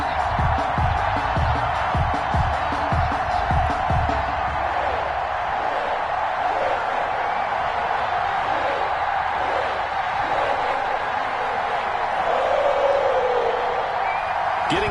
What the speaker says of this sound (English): The enthusiasm of this Cincinnati crowd in full effect a moment ago as their Bengals took the field to the delight of this sold-out crowd.